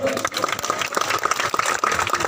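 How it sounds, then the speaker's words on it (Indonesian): A church congregation applauds during a service in Waropen, giving a steady, close burst of many hands clapping at full volume for a few seconds. "Tepuk tangan dulu"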